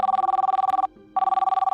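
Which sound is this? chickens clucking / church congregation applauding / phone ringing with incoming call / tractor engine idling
phone ringing with incoming call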